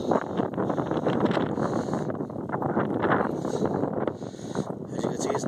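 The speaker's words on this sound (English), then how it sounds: "I just rode up here against the wind, and the wind turned on me." Strong headwind buffets a cyclist riding a straight bike path at Broad Channel, roaring steadily and close against the microphone for several seconds, with a voice speaking underneath.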